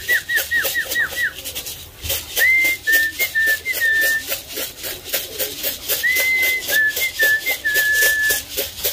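A person whistles to call farm animals to their feed: a quick run of short rising whistles, then longer sliding whistle phrases repeated twice, loud and close, over rhythmic rattling like a shaken feed can.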